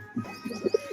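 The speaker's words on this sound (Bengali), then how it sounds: "খুব সুন্দর কালারের একজোড়া পায়রা।" A pair of spotted pigeons coo close by in a brief series of soft, low, throaty pulses, with no voices present.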